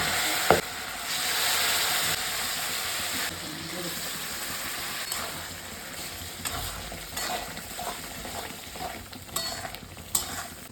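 Bitter gourd cooks in mustard oil in a pan, a constant nearby sizzle broken by repeated scraping and clattering stirs, with no talking.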